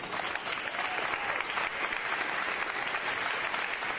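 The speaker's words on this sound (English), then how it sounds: "A round of applause, please." Steady, fairly distant applause from a crowd at a Philadelphia fundraising announcement for the Wanamaker Christmas Light Show, a continuous clapping wash without a break.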